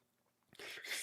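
A single sharp sneeze bursts out close to the mic after a quiet, faint lead-in, with a brief breathy tail.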